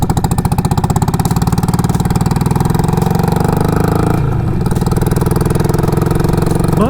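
A Harley-Davidson Sportster 48 motorcycle engine idles steadily and evenly from start to finish, close and loud, with a rapid regular firing pulse and no pops or backfires from the exhaust.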